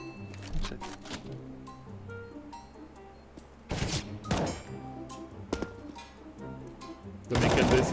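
Gunfire in the video game CS:GO comes as sharp single shots and short bursts, with a loud burst near the end, all under people chatting over the game.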